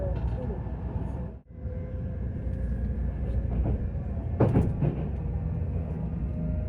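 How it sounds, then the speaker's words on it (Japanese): An Odakyu electric train runs at speed, overtaking a Tokyo Metro 16000 series train on the outer track near Mukogaoka-yuen station; a steady rolling rumble fills the clip, with a brief dip and passing clatter from the other train. "今外側線を走るメトロ1万6000系を追い抜いていますね。"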